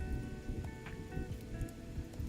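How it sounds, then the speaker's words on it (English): Ambient rain-and-thunder sound effect with a steady hiss of rainfall and a low rumble underneath, constant and moderately quiet, no speech. "I need rain, a fireplace, and thunder"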